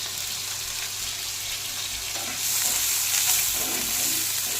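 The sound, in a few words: onion frying in a little oil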